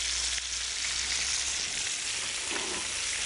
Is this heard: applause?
no